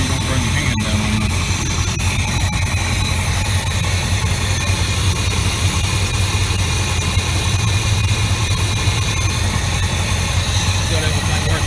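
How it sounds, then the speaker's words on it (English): A Chevrolet 454 V8, its emissions equipment stripped off, runs at a steady idle from start to finish. The low rumble stays continuous and fairly loud, with faint clatter and shop noise behind it. "Got everything working now. Motor sounds good."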